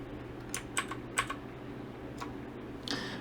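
Keypresses on an AUKEY mechanical keyboard with blue switches, pressing the function and insert keys: a few sharp, separate clicks spaced irregularly over a low steady hum, close and fairly quiet.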